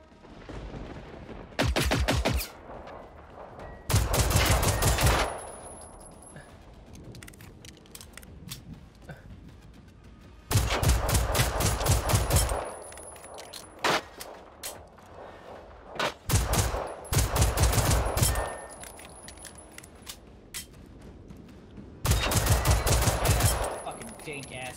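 Bursts of automatic gunfire erupt in the video game Generation Zero, several long rapid volleys separated by quieter stretches, loud and near.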